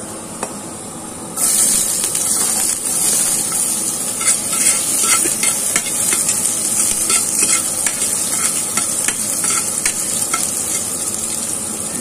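Ginger fries and is stirred in a hot pan while cooking goat dinakdakan, a loud, steady sizzle broken by scraping stirs and small crackles that start abruptly and keep going.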